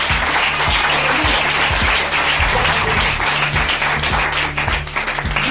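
A church congregation claps and cheers continuously through a worship service, a dense, loud wash of applause with a steady rhythmic beat underneath and no clear speech.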